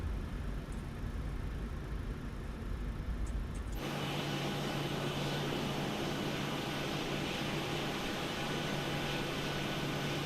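A United 737 taxiing in Microsoft Flight Simulator 2020, headed for Cozumel: a steady, even engine hum and airflow roar that shifts abruptly to a brighter, fuller whine partway through, with no talking.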